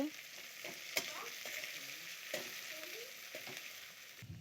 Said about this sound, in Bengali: পেঁয়াজটি দিয়ে দিচ্ছি, তেজপাতা দুইটা দিয়ে দিচ্ছি, একটু লাড়িয়ে নেব।